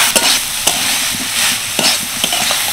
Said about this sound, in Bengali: এবার ভালো করে সব কিছু মিশিয়ে নেব।